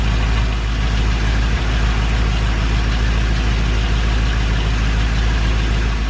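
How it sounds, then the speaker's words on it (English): A 4.8 engine in a 1985 Chevrolet S10 Blazer idles loudly and steadily nearby on a cold start, with a constant low rumble and a fast rhythmic lifter tick running throughout. "we gotta get past my cold start lifter kick."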